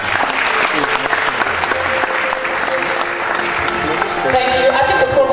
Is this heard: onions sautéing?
no